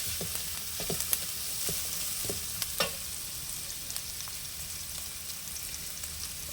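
Onions frying in a pan, a soft continuous sizzle with scattered light scrapes and taps from stirring, fairly quiet and close.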